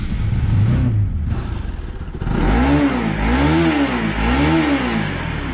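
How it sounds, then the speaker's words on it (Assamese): A Bajaj Pulsar NS200 motorcycle idles at close range, then its exhaust revs up in three repeated swells that rise and fall, loud and rhythmic, with no talk over it. "আপোনালোকে অলপমান এক্সজষ্ট চাউণ্ডটো শুনাই দিম বাৰু বাইকখনৰ"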